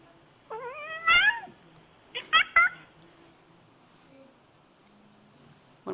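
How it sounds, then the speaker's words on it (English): A cat meows several times, two short rising-falling calls close together followed by a second pair a moment later, fairly near against a quiet background. "I want you to guess the context of the meow that you're hearing."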